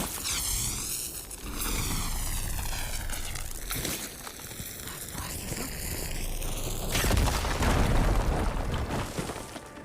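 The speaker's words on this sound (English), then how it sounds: "Should be able to blow up that fire gleam." A fire gleam bursts in Horizon Forbidden West with a series of booming blasts and crackling roars, sweeping tonal whooshes rising and falling over them and a final heavy burst near the end.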